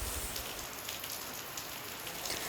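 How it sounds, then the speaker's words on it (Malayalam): Rain falls steadily outdoors during a wet spell, a soft, even patter of drops on surfaces heard alone at moderate distance without any talking. "പുറത്ത് നല്ല മഴ പെയ്തുകൊണ്ടിരിക്കുകയാണ്"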